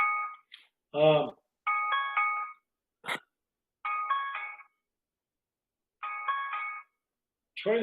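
A phone rings with a repeating electronic ring-tone pattern, each ring loud and close, broken by short silences and brief bursts of a voice.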